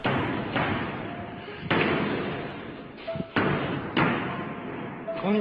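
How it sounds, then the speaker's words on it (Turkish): A locker room door at a stadium slams shut on its own, several heavy bangs each followed by a booming echo, loud and close in a reverberant room. "Görüntüde kapının kendi kendine çarptığını duyan görevli bunu kontrol etmek istiyor."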